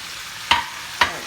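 Fish frying in a pan under a steady oily sizzle, with two brief scraping stirs of the utensil about half a second apart, close and clear, no voices.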